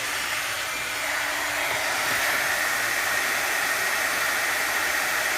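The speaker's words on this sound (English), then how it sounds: "Now I will heat emboss it right quick." A heat embossing tool blows hot air onto a Halloween card in a continuous, loud, close hiss and whir that holds steady throughout with no talking.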